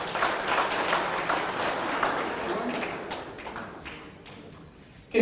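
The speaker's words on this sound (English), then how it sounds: "Give him a round of applause." An audience claps steadily at a certificate ceremony, a dense, fairly close wash of applause that thins gradually toward the end.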